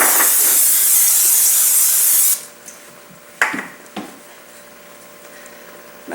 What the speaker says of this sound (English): Generous spray of